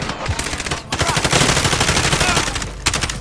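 Rapid automatic gunfire from a first-person shooter video game rattles loudly and almost nonstop, with dense overlapping shots and brief pauses between bursts.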